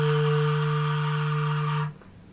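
A clarinet holds a final sustained note very softly and steadily before cutting off cleanly, leaving near silence; no voices.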